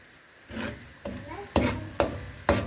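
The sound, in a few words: stirring semolina in hot ghee with a spoon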